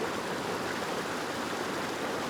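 Steady, loud rushing roar of a waterfall in the Ogwen Valley, with dense broadband water noise continuing without a break.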